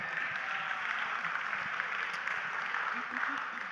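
Audience applause at a church Bible-interpretation gathering, steady moderate clapping throughout with a faint voice underneath near the end.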